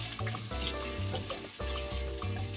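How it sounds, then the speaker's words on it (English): Onion and celery frying in a pot for minestrone soup, a quiet steady sizzle with stirring scrapes and small clinks, close and alone. "so now I'm going to put in the onion."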